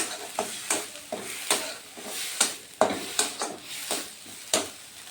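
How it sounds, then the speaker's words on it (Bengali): Ground mustard and poppy seed paste is stirred and fried in a kadai, with repeated scraping strokes of a spatula against the pan at a steady rhythm over a soft sizzle, close and clear, with no voices. "এই জন্য একটু কড়াইয়ের মধ্যে দিয়ে একটু ভেজে নিচ্ছি"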